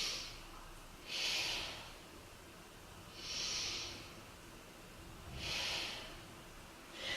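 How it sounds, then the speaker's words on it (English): Slow, deep belly breaths during a beginner yoga session, three soft airy exhalations rising and falling in a steady rhythm, close and quiet against a faint background. "Breathe into the belly. So let's take 3 breaths here."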